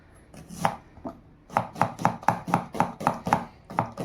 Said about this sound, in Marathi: सर्वात आधी आहे ना कांदा आपण कापून घेऊ, मस्त बारीक करू घेऊ कांदा